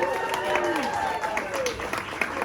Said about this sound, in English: round of applause for BJ Snyder.